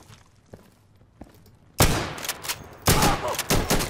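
In the video game Insurgency, a few quiet thumps give way to sudden loud bursts of gunfire, rapid overlapping shots that fill the last two seconds.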